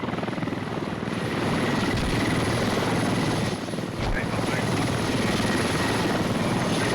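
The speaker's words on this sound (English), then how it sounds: "Here comes the helicopter" Military helicopter landing in the video game Squad, its rotor and engine a loud, steady, close drone that fills the whole stretch, dipping only briefly midway.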